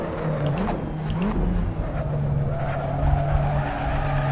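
Tires on a race car squeal and skid over a steady engine drone in the racing game Assetto Corsa, loud and close, the squeal wavering in pitch as the car slides through a corner.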